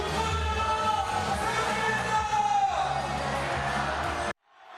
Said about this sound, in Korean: 시민들은 자리를 박차고 일어나 함성을 질렀습니다